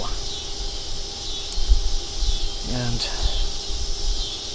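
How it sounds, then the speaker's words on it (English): Cicadas buzz outdoors in a steady high-pitched drone, faint and continuous in the background, with a low rumble and brief mechanical tones around it. "the cicadas will continue to serenade us throughout the rest of this"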